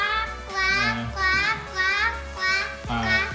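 A child imitates a crow's call, voicing a series of about five loud, harsh, drawn-out caws in a steady rhythm, each separated by a short pause.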